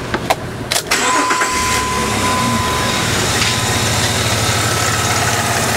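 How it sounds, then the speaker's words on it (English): A car engine cranks briefly and catches just after a new ignition coil is fitted, then settles into a steady, smooth idle with a low continuous rumble close by. "If you can hear this on the video, the engine is now running smooth."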